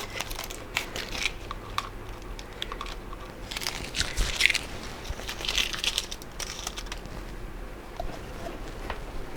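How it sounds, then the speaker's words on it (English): Masking tape peeled in short crackling strips off the back of a homemade model railway town backscene, close up and fairly quiet, with repeated tearing bursts and no talk. "we'll take all this tape off here"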